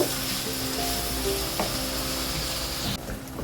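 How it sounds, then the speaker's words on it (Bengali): Marinated meat spiced with chili powder sizzles and fries in a pan, a steady dense crackle with occasional stirring scrapes, close and continuous with no talking. "এই মেরিনেট মাংসটাকে এখন ভালোভাবে আমি কষিয়ে নেব"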